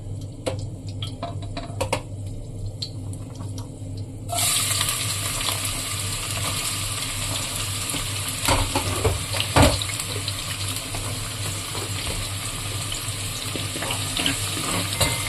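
Onions for mutton drumstick curry dropped into hot oil, the faint clicking background suddenly giving way to a loud, steady, close sizzle that continues with occasional stirring clatter; no talking.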